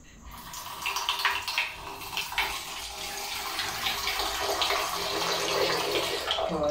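Water poured steadily over harvested grindal worms held in a fine net to wash them, a continuous close splashing pour that builds and holds for several seconds.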